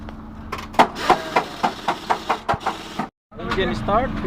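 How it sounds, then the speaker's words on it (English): A Mercedes-Benz truck engine, just repaired with three replaced pistons and liners, runs loud and close with a steady rhythmic knocking pulse. It cuts out briefly, then roars back to a rough idle. "Engine start, finish."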